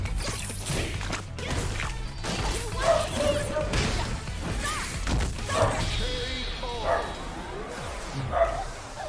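A dog barks and yips in a Street Fighter 6 ladder match, with repeated bursts mixed into loud crashes, whooshes and busy fight sounds.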